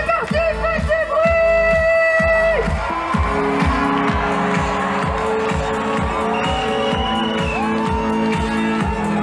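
A crowd at a Paris street rally against the bioethics law on Place Vendôme cheers and whoops loudly and steadily, layered with rhythmic drumming and sustained horn or whistle-like tones throughout.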